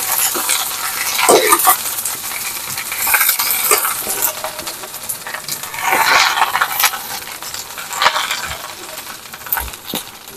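Onion and garlic sizzling in a pan, a loud, steady frying hiss with the scrape and clink of stirring over it, close by.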